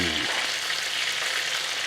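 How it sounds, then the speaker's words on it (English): Monkfish fillet sizzles loudly and steadily in a hot pan as it is basted with garlic and thyme butter, a dense continuous frying hiss with a brief low thump at the start. "And just continually baste it at the same time that we're browning that top side."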